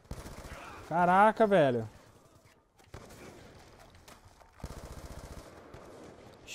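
Distant gunfire in the first-person shooter Black Ops 2 crackles on and off beneath a player's excited talk, with a longer stretch of rattling shots near the end.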